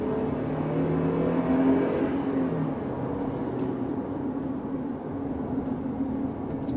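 A 2016 Jeep Grand Cherokee accelerating hard, its engine roaring loudly and rising in pitch before settling into a sustained, steady drone as speed builds.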